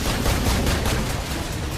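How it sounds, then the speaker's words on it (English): Dense automatic gunfire in Call of Duty: Modern Warfare, the video game, during an escape from a sinking vessel, a loud continuous rattling barrage with heavy low rumble that cuts off abruptly. "By the time you're escaping a sinking vessel under gunfire"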